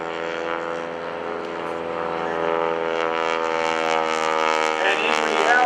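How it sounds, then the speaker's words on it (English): A Stearman biplane's propeller and Pratt & Whitney radial engine drone with a steady harmonic buzz at an airshow, growing gradually louder and nearer across the whole stretch. "The sound of that prop, you don't hear that in a cockpit."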